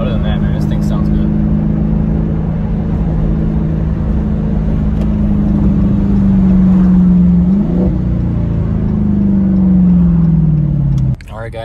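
A 2021 Dodge Charger Scat Pack with the 392 engine drones steadily while driving, its exhaust note rising in pitch under acceleration and easing off, with someone speaking over it.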